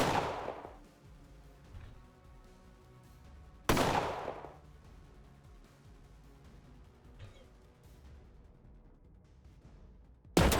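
Gunfire from the video game Colony Ship RPG: three loud, separate gunshots with long decaying tails over a quiet game ambience, spaced several seconds apart.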